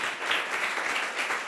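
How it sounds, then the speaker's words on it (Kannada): A church congregation claps together, a short, even wash of many hands heard at moderate distance with no talk over it. "ಸಂತೋಷವಾದವ್ರು ಮಾತ್ರ ಚಪ್ಪಾಳೆ ಹೊಡ್ರಪ್ಪ"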